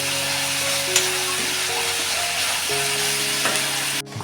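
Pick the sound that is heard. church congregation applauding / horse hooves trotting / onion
onion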